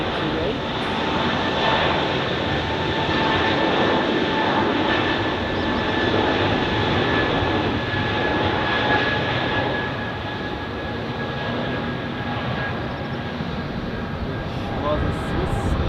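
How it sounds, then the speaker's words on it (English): An Airbus A321neo airliner takes off on runway 28 at Zurich Airport with a steady, loud engine roar that holds throughout. A voice talks over it. "takeoff on runway 28."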